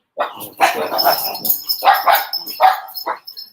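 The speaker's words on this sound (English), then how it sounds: "You're barking at the birds." A dog barks loudly and close by, a run of sharp, repeated barks with brief pauses between them.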